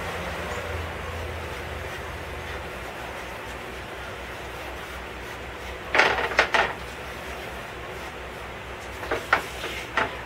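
Tandoori spices stirred into hot oil in a pan with a silicone bowl scraper: a steady low hiss runs throughout, broken by a few brief bursts of scraping near the end.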